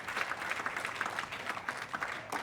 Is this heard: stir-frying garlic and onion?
no